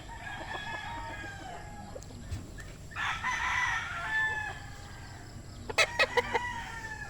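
Gamefowl stags at a breeder's farm crow and cluck over steady background noise, one drawn-out crow in the middle and sharper calls near the end, moderately close.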